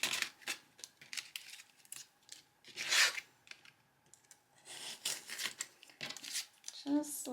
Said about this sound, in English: I am going to go ahead and start cutting the extra paper off of here